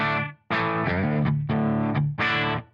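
A clean-toned electric guitar strums a few sustained chords, with brief breaks between them. The tone is full and ringing, and no one talks.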